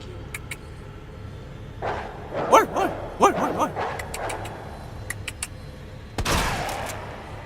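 Dogs barking in Resident Evil 2, several sharp yelping barks clustered in the middle over quiet background, followed by a louder burst that could be a shot.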